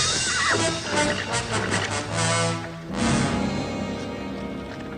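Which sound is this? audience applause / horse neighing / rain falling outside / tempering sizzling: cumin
horse neighing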